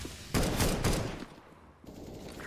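Auto sniper rifle fire in CS:GO, a rapid burst of four or five sharp, loud shots, then a quieter pause and more distant firing.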